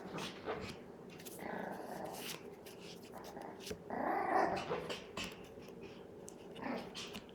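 A puppy growls and whimpers while chewing on a hat, with soft, intermittent growls rising to a louder burst midway, close up and mixed with faint background movement.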